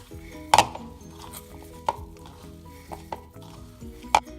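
Meat being mixed by hand with Parmesan for nuggets, soft wet squelching and stirring punctuated by a few sharp clinks and taps against a bowl, close and fairly quiet with no talk.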